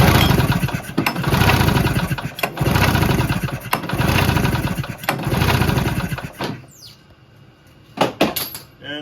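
A Polaris Indy snowmobile engine cranks repeatedly during a compression test: loud, rhythmic chugging pulses in long bursts, then a pause and a few clicks and rattles near the end.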